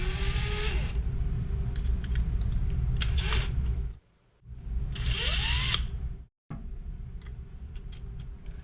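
A power drill spins a homemade wheel cleaner in several long bursts, stopping briefly between runs, close and steady with a high whine.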